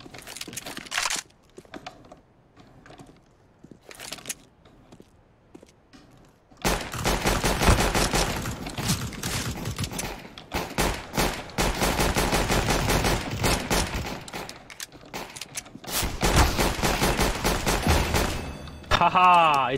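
Pistol fire in Counter-Strike: Global Offensive, with a few sparse shots early, then long rapid bursts of sharp cracks, loud and close, mixed with keyboard clatter and players talking.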